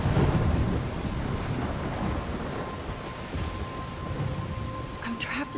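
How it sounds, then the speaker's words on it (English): In the video game Life Is Strange, a thunderstorm rumbles with heavy rain, a continuous loud wash of rain and wind under rolling thunder that is strongest at the start. "I'm trapped in a storm?"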